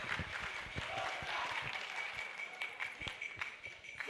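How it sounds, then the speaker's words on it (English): A quiet, distant round of applause at the NSMQ 2025 Central Regional Championship final, scattered clapping spread across a hall at low level with sharper individual claps standing out. "Please, let's give her a round of applause"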